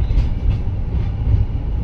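A train pulling into Barpali railway station, a loud, steady low rumble of rolling wagons heard from close by, with no talk.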